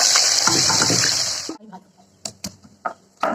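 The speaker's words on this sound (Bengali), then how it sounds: "তেল ছিল, ওর মধ্যে দিয়ে দেবো লঙ্কা, এলাচ, দারচিনি, গোটা জিরে, দিয়ে দেবো পেঁয়াজ কুচি" Chillies, cardamom, cinnamon, whole cumin and chopped onion hit hot oil for a chicken kosha, making a loud, close sizzle for about a second and a half. The sizzle cuts off and a few sharp utensil clicks follow.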